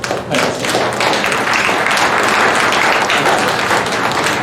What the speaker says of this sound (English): Let's give a clap offering to Dr. Rashid. Very big clap offering.